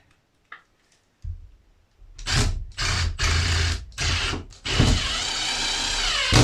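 A power drill whirs in several short bursts, then runs steadily as a self-tapping screw is driven through wood into metal framing close by, with a few faint taps beforehand.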